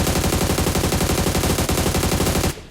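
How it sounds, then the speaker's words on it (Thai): Sustained automatic gunfire in PUBG Mobile, a rapid even rattle of shots that sounds close and loud, then stops abruptly at the end. No one talks. "เสียงปืนอยู่ใกล้เรานะครับ"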